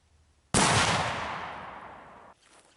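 A single loud black powder shot from a rebuilt Brunswick rifle fired at a watermelon, a sharp close blast followed by a long decaying rumble that cuts off after about two seconds.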